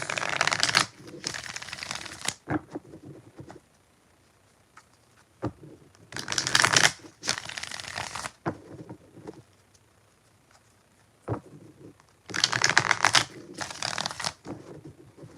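Tarot cards are riffled in three separate bursts of quick, crisp fluttering, with quiet pauses and soft handling between them.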